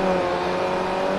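A Mini Cooper race car in the Forza Motorsport racing game holds a steady, loud, high engine whine at full throttle for a brief moment, with no voices.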